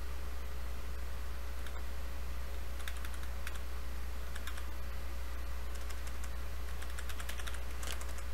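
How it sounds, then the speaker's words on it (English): Arrow keys on a computer keyboard tapped in short scattered bursts of clicks while working in GIMP 2.8.10, faint over a steady low hum and background hiss, no voices. "I'm just moving this with my arrow keys to something that I like"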